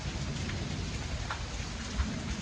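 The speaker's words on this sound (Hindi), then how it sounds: "तो अल्हम्दुलिल्लाह आज बारिश आ गई है।" Heavy rain pours down in a steady, dense hiss that stays loud and even throughout, with a faint low rumble underneath and no voices.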